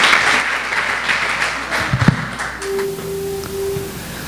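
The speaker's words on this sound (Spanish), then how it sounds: "Denle un aplauso fuerte al Rey de Reyes." Church congregation applauding together, a broad wash of clapping that thins out and fades after a few seconds, leaving a quiet room with a faint sustained tone.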